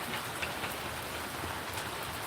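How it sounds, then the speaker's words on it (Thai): Rain falls steadily beside a house in Nonthaburi, Thailand, a dense, even hiss of drops on surfaces with faint pattering, continuous and without voices. "ฝนกำลังตกค่ะ"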